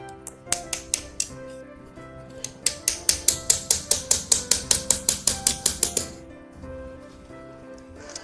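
Hammering nails while building a Christmas crib: a few scattered taps, then a steady run of about fifteen sharp, ringing blows in quick rhythm, close and clear, before it stops.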